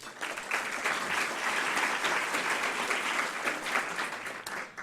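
An audience at a civic panel discussion in Columbus applauds as panelists are introduced, a full, sustained round of many people clapping, steady and moderately loud throughout with no speech over it.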